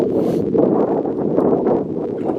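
Wind blows hard across an exposed road on a January bike ride near the Wye Valley, producing a loud, continuous rough buffeting roar.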